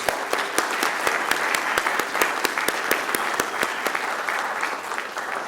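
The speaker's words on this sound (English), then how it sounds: "please give a big round of applause for our bagpipers" An audience claps for bagpipers at a Veterans Day tribute at a university, with sharp individual claps standing out over a moderate, steady bed of applause.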